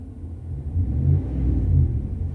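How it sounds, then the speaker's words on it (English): 2016 RAM 1500 pickup engine revved as the throttle is lightly pressed, a deep, close rumble that swells and eases twice, with no voices. "maybe I can step on the gas a little bit and you can see how much the throttle response is"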